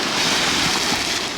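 A sea wave rolls onto a beach at Anapa in mild January weather, a loud, close, broadband rush of surf mixed with wind noise, with no speech over it.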